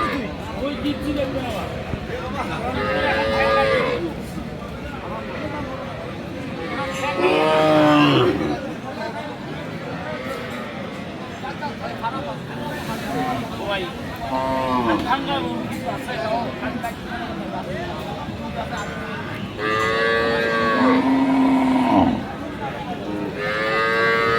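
Sahiwal cattle, cows with calves, low repeatedly at Aftabganj cattle market in Dinajpur, several long moos rising over a constant crowd murmur and nearby talking.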